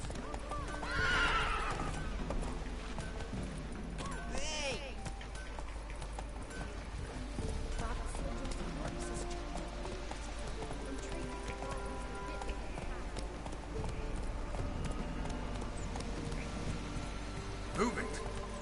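Roach, a horse in a PS4 video game, whinnies near the start, then her hooves clip-clop steadily at a trot, with voices speaking intermittently.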